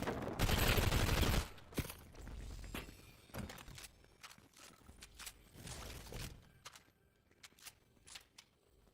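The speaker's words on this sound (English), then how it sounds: "Who the fuck is shooting at me?" A loud burst of video game gunfire opens the scene, then trails off into scattered shots, thuds and footsteps. The sound is fairly quiet overall, with almost no talking.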